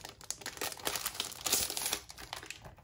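Crinkly half-sheet planner filler paper being handled, a close, soft, continuous crackle and rustle lasting a few seconds with no voices.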